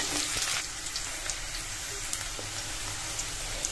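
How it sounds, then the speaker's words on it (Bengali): Onions frying in a pan, a steady dense crackle and sizzle with scattered small pops. "পেঁয়াজটা লাল লাল করে ভাজা হয়ে গেছে"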